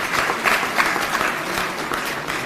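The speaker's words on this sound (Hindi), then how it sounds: "तो एक बार उनके लिए तालियां बजा दीजिए।" Audience applause at the opening of a skill training centre in Matia Mahal, Delhi: a steady, loud wash of clapping hands filling the room, sustained throughout with no speech over it.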